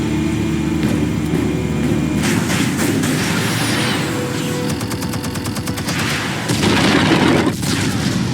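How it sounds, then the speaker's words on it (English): Explosives detonating in the video game Batman: The Telltale Series, a loud sustained rumble of blasts and crackling debris with sharp bursts, swelling again near the end against a dense game soundscape. "Explosives armed. Fire when ready."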